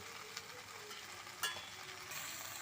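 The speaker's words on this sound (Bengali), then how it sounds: "সমস্ত মশলা দিয়ে সবজিগুলো আমার খুব ভালো করে কষানো হয়ে গেছে। এবার দিয়ে দিচ্ছি আমি জল" Water splashes onto vegetables sautéed with spices in a pan for Bengali pachon, raising a soft, steady sizzle with one brief sharper burst midway, faint and with no voices.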